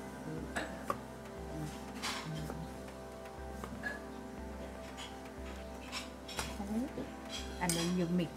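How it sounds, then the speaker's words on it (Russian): A spoon and pestle mix green papaya salad with palm sugar, fish sauce, lime juice and tomato pieces, giving repeated light clinks and scrapes at close range over a steady low background hum. "Ложкой и пестиком все это перемешивается."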